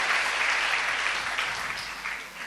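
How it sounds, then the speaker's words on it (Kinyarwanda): Church congregation clapping in praise of God, a dense, loud sustained round of applause from many hands that fades slightly toward the end. "tumpigie Mungu mikono"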